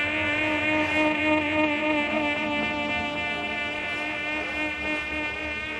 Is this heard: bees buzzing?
yes